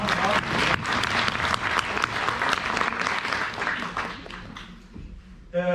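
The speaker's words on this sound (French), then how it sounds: "Donc, on va quand même l'applaudir." An audience at a university master's degree graduation ceremony in Paris breaks into sustained applause, full and close, with clapping tapering off toward the end as a voice starts to speak.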